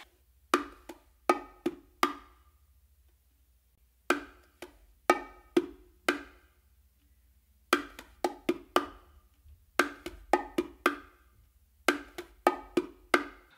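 Bongos playing a martillo pattern, alternating strokes with a slap from the dominant hand, in repeated groups of sharp, close hits with short pauses between phrases.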